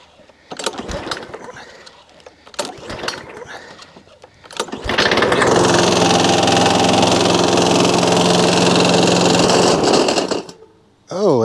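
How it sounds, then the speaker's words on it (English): A lawn mower engine on a homestead in Portugal, heard after a few earlier bursts of activity as it catches at about five seconds and runs loud and steady for several seconds before cutting off abruptly. "hopefully the mower will start"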